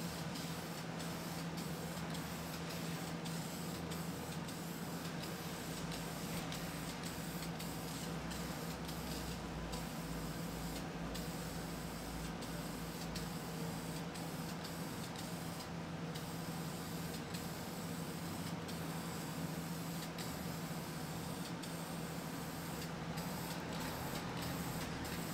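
Spray paint from an aerosol can hisses steadily onto carpet fabric, a continuous close-up spray held at an even level with no talking.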